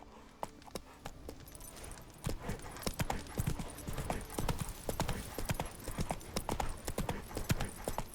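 Roach, the horse in The Witcher 3 video game, trots with a crisp, regular clip-clop of hooves that grows louder after a quiet start and continues steadily to the end.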